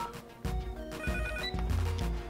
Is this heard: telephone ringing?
yes